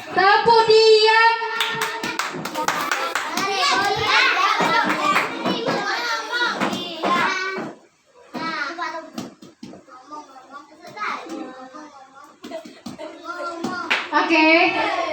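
Children at a Sunday school session clap their hands in a rhythmic clapping game, with bursts of claps scattered among loud kids' voices and an adult leading, voices filling most of the clip.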